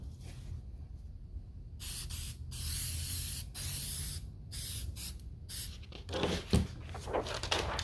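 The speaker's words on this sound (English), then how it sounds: "I gotta spray it one more time before it gets shipped out" An aerosol can of fixative hisses over a charcoal sketch in several bursts of different lengths, close and fairly loud, with short pauses between sprays and some handling noise near the end.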